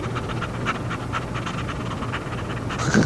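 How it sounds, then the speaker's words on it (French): A dog pants steadily in the video game Harvester, quick rhythmic breaths close up over a constant low background hum. "Le chien."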